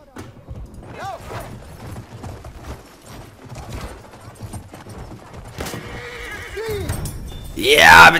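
A horse in the World War I shooter Battlefield 1, set in a desert map, whinnies several times over clopping hooves, with distant gunfire and a loud burst near the end; someone talks over it.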